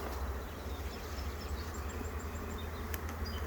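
Dense swarm of honey bees buzzing steadily and close during a hive colony split, a continuous droning hum with no voices.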